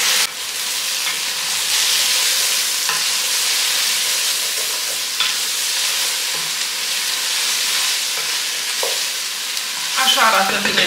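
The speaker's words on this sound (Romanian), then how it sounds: "nu le prăjesc în cantitate mică, ci doar le amestec pe toate cât să se înloaie puțin" Eggplant pieces are stirred and fried in a little oil, with a loud, continuous sizzle up close and scraping stirring strokes throughout, and a brief clatter near the end.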